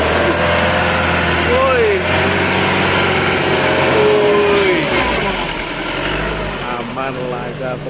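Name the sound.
amphibious dump truck engine entering the river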